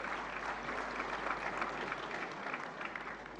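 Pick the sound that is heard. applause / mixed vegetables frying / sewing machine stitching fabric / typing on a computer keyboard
applause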